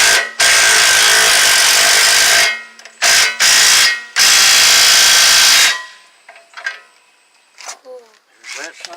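A power tool tightening a part on a Jeep's one-ton steering setup, several loud whirring bursts of a few seconds each, close up, then short ratcheting clicks and rattles.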